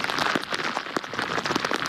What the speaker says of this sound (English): You're dealing with the rain, the heavy rain. Obviously, I can hear it on your microphone.